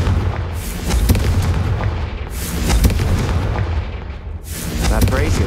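A Confringo fire spell from Hogwarts Legacy detonates with deep booming blasts, a loud low rumble swelling and fading twice across several seconds, with no talk over it.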